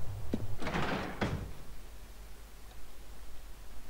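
A door opening in the Silent Hill Origins video game: a sharp click, then a loud scraping creak-like rush and a second knock, fading into faint ambient hiss.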